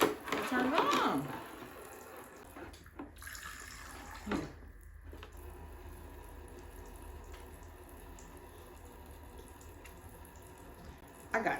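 Tap water runs steadily into a household sink for a child's hair routine, a continuous soft rush with a louder splashy burst at the start and brief surges, with talk in the background.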